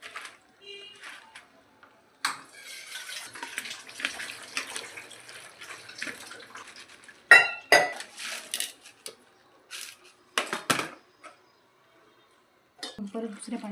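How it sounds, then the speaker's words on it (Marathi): Ridge gourd is washed in clean water in a kitchen, giving brief splashes, trickling and clinks of dishes in scattered bursts separated by quiet gaps. A person talks in between. "आपण हे ना स्वच्छ 3 पाण्याने धुवून घेणार आहे."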